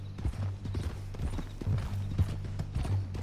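Horse hooves clip-clopping in a steady trotting rhythm while riding in Red Dead Redemption 2, close and moderately loud with no talk.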